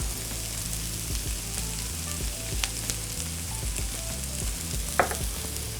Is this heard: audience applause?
no